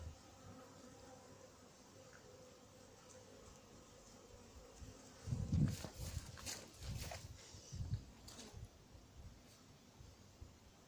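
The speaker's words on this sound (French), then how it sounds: "sur le rucher il y avait quelques frelons qui se baladent, qui capturent bien, de façon régulière" Hornets fly around beehives at an apiary, a faint steady insect buzz with louder wingbeat passes swelling close by in the middle.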